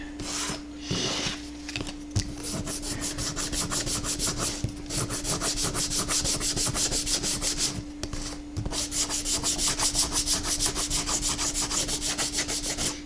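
Model building walls are sanded smooth with steady, rapid back-and-forth rasping strokes, close and fairly quiet, pausing briefly twice before the rubbing resumes.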